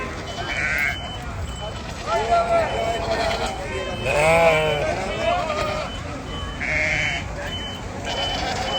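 Lambs bleat at a livestock market in Akhisar ahead of Kurban Bayramı, several wavering cries near and farther off amid crowd babble and people talking.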